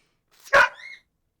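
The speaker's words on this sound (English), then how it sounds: "sounds like she's probably barking at one of the cats." A single short, sharp bark from a dog indoors, barking at a cat, with a brief whiny tail trailing off, alone against silence.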